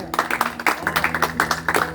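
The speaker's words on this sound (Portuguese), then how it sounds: "Dê uma salva de palmas ao Senhor." Church congregation clapping for the Lord, quick rhythmic claps mixed with a sustained tone and some voices in the background.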